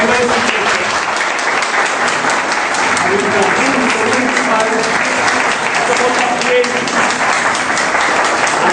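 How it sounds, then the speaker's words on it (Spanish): Loud, sustained applause from a neighborhood association gathering, thick continuous clapping that fills the whole stretch with a few voices mixed into the crowd noise. "vamos a dar un fuerte aplauso"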